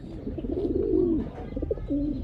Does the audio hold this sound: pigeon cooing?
yes